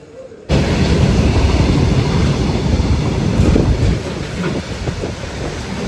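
A train at Kudal railway station in Konkan, India, rumbles loudly and continuously close by, a heavy rolling roar with rattling clatter that starts abruptly and holds steady throughout.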